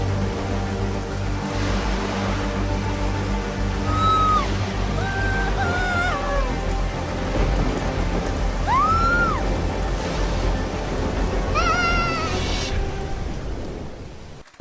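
A major storm hits a very small boat at sea. A dense, loud wash of rain and surf runs without a break throughout. Whistling, bending tones rise and fall above it like howling wind.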